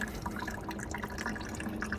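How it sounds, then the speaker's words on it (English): Water draining from a bottled-water dispenser into a waste bucket, a steady trickle and dripping under broadband liquid noise with no speech. "where it's draining into the bucket"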